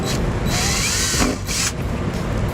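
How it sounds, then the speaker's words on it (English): Power drill boring two holes through the plastic rear fascia of a 2010 Jeep Patriot, a close, loud steady whine with brief pauses and pitch shifts as the bit cuts through. "I'll go ahead and drill the 2 holes."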